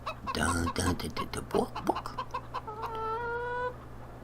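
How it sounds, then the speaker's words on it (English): Chickens clucking in the farming game Farming Simulator 15, a busy flock with a voice talking over the first part, then steady rising clucks carry on alone near the end. "What a bunch of organized chickens."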